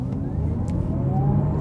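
An Audi e-tron GT electric car accelerating hard in a 0 to 60 run, a steady loud low drone with a faint rising whine and a subtle shift partway through, no talking.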